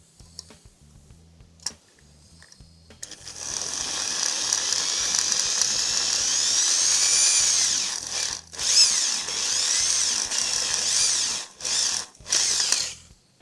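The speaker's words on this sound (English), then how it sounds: "Drill a hole on either side." A power drill whines up and bores steadily for several seconds into a metal cam oil seal on a Harley-Davidson Evo engine, pitch wavering as it bites, then stops and restarts in short bursts.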